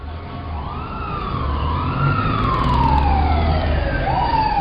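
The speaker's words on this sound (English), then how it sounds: "They're going to send an ambulance and a police car right away." Emergency vehicle sirens from an ambulance and a police car rise and fall in loud, sweeping wails as they arrive on a town street, steady and close with traffic rumble beneath.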